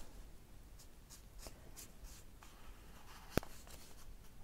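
A thick pen tracing outlines on paper while making a kawaii coffee cup bookmark, giving a soft, scratchy stroke sound in repeated short drags, close and quiet, with one sharp click partway through.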